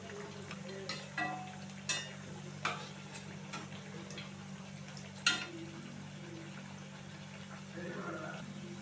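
Paruppu vadai, lentil fritters, fry in oil with a soft continuous sizzle. Several sharp taps and clinks come from a utensil turning them, and faint speech sits underneath.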